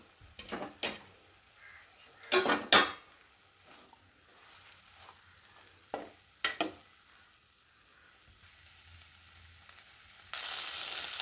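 Cowpea stir-fry gets stirred in a pan, with a few sharp scrapes and clatters in bursts over a faint background, ending in a loud steady sizzle.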